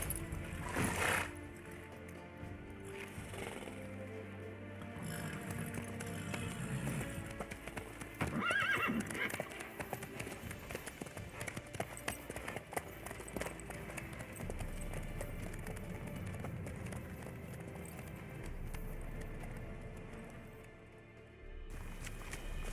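Horse hooves clip-clop in The Witcher 3 video game, a steady walking rhythm with an occasional neigh and whinny over a low ambient game soundscape.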